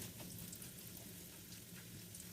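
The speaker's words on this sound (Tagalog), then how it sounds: "Sa parehong kaldero na may mantika na ginamit na pinagprituhan ng isda ay ilagay ang ginger at igisa ng 1 minuto." Ginger sautés for a minute in a pot of oil left over from frying fish, giving a steady, faint, even sizzle with no talking.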